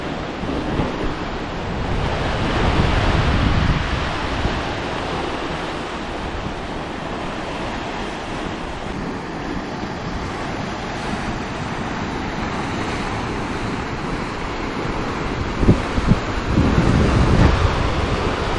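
Sea waves surge into a sea cave below Cabo de Rama fort in South Goa, a continuous roaring wash of surf mixed with heavy wind buffeting that swells briefly near the end.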